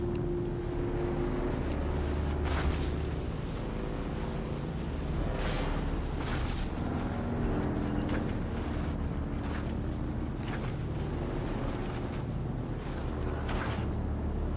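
A bike exploding in the video game Dune: Awakening, heard as a sustained roaring, rumbling blast with repeated bursts of crackling noise and wind-like rush over about fifteen seconds, loud and continuous without speech.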